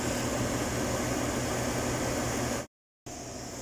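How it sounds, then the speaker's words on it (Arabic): A car's air conditioning and radiator cooling fans run as a loud, steady whooshing roar that cuts out briefly near the end, then resumes. "هذا الان مع تشغيل المكيف"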